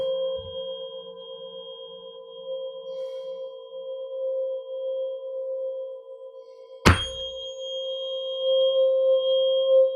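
A 528 Hz tuning fork's sustained pure metallic ring hums steadily, then a sharp strike near the end sets the tone ringing louder again.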